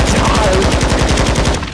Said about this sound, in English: Suppression fire.